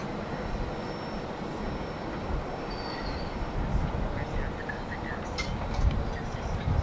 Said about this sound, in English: The 165 originates in Montreal, Quebec, Canada as CP-143.